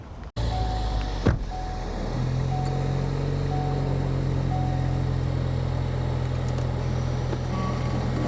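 A 2016 Ford Focus ST with air suspension and carbon fibre parts starts off, a short clunk giving way to a steady engine hum at close range, with no voices.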